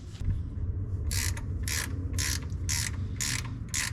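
Temperature sender unit being threaded into an engine on a 520 project, giving a series of about six crisp ratcheting clicks in regular bursts over a steady low background hum.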